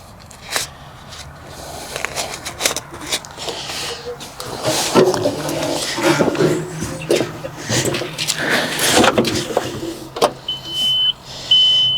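A John Deere backhoe engine cranks and sputters, a loud and uneven mechanical rumble with irregular surges that builds toward the end, while faint voices talk in the background.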